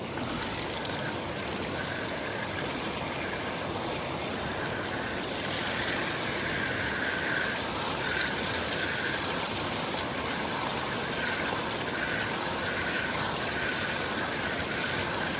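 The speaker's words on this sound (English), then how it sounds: "I'm gonna flush a little more water in here." Water rushes steadily through a gold panning sluice box at a riverside, a continuous loud, broadband wash with no breaks and no talking over it.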